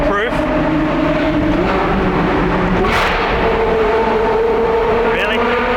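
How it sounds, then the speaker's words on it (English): A 2020 Ferrari 812 GTS with its V12 engine and Novitec exhaust roars loudly and steadily up close, the revs climbing and shifting in smooth harmonic sweeps with a brief sharper burst midway. "Not only is the 812 one of the best sounding Ferraris, I think it's one of the best sounding cars ever made."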